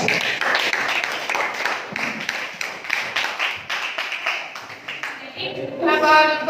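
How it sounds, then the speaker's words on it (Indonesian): A classroom applauds a student group, with dense clapping from many hands running throughout, then a voice speaks near the end. "Tepuk tangan dulu untuk kelompok 3."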